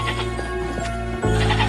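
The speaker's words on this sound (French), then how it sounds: "C'est dingue, vous avez aussi récupéré les chèvres." Goats bleating, a close, loud, wavering bleat over a dense background, with a second call starting near the end.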